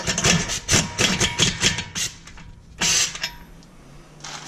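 An impact gun tightens lug nuts on the wheel of a 2014 Lexus IS350 F-Sport during a brake job, giving several sharp rattling bursts in quick succession, then a pause and a final longer burst, close by.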